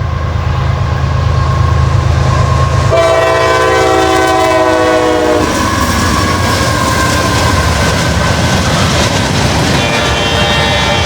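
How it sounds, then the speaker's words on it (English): An I&O freight train carrying steel coils rumbles past up close, its horn sounding a long, loud blast partway through over steady wheel and car noise. "I believe this is going to be the steel coil train."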